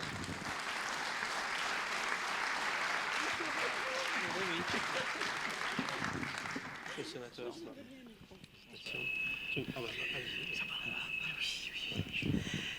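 An audience applauds a senator at an accessibility awards ceremony, thick clapping for several seconds that thins out, then a quieter stretch with murmuring voices and a faint tonal hum.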